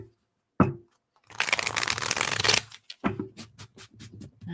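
A single sharp tap, then a long, close riffle of shuffled tarot cards, followed by several quick bridging flutters and taps.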